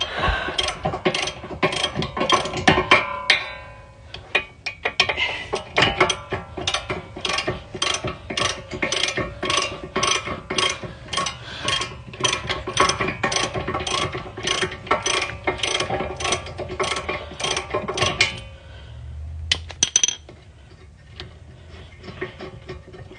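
Rapid ratchet clicking in quick bursts while bolts are loosened on the rear brake of a 2019 Mazda CX5, close and crisp, pausing briefly partway and stopping near the end with a few clunks.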